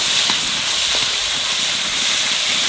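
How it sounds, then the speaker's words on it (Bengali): Ginger, garlic and green chili paste sizzles and fries in a hot pan while being cooked for a fish malai curry, a steady close hiss lasting throughout with no talk. "আদা রসুনটা বাজিয়ে নিলাম।"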